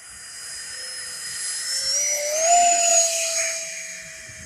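Habu STS 70mm EDF radio-controlled smart jet in flight, its electric ducted fan giving a steady high-pitched whine that swells and shifts in pitch as it passes nearer, then fades slightly.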